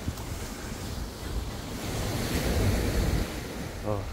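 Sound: ocean waves heard from a balcony

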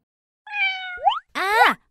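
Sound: cat meowing

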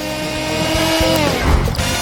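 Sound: blender blending watermelon pulp for juice

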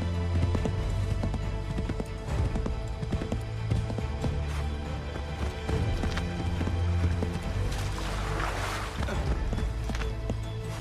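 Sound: horse galloping in video game Assassin's Creed 3

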